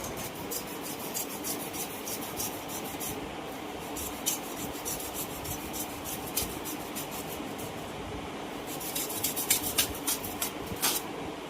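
Scissors cut a fish tank filter sponge down to size, making a steady, close, dry rubbing and rasping scrape that runs continuously with brief crisper snips near the end.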